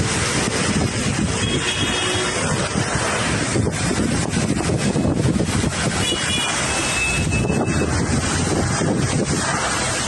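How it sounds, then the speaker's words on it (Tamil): A storm of strong wind and heavy rain sweeps Navi Mumbai. Loud, continuous wind roars and buffets the microphone throughout, with a rushing wash of noise and no voices. "நவி மும்பையில் பலத்த காற்றுடன் கனமழை கொட்டியதால் வாகன ஓட்டிகள் கடும் அவதிக்குள்ளாகினர்."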